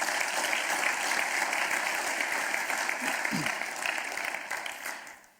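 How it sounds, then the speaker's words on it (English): An audience at the Tinker Air Force Base State of the Base event applauds, a dense, loud, steady clapping that fills the room and tapers off at the end. "Let's give them all a round of applause."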